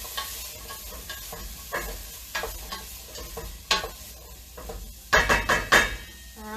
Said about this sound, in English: So you can just give the veggies a stir.